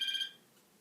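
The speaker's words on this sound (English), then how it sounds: "That's my phone" A phone's electronic ringtone sounds briefly and clearly for a fraction of a second, then cuts off, leaving a faint quiet room.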